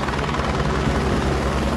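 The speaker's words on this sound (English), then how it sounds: "If the helicopter can't land here" A helicopter hovers low over a narrow, thin and rocky field while trying to land, its rotor a loud, steady, close thrum that fills the whole stretch without any talk.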